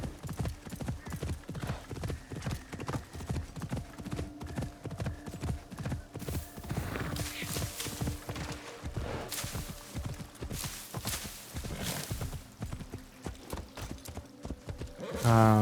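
Horse hooves clip-clopping in the Assassin's Creed Shadows video game, a rapid, continuous rhythm of hoof hits close by with faint game ambience and a brief whinny-like sound near the end.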